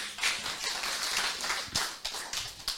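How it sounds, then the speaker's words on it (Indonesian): A small audience at a farming talk on vegetable fertilizer claps together, a loose, uneven patter of hands with a few sharper individual claps, fairly near and moderately loud, with no talk over it. "Tepuk tangan dulu."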